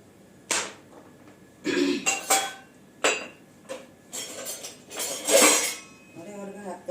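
Pots, dishes and utensils being scrubbed and washed by hand, with irregular metallic clanks, clinks and scraping bursts spread across the clip, fairly close and moderately loud.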